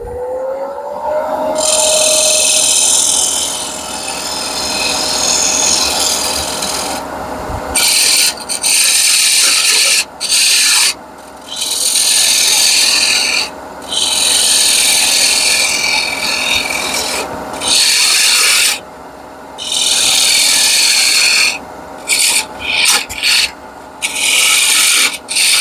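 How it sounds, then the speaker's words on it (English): Wood being trimmed by hand with a rasp to shape a knob for the top of a round whiskey smoker, heard as loud, steady rubbing strokes in bursts separated by short pauses. "I'm just going to trim this out for a knob on the top."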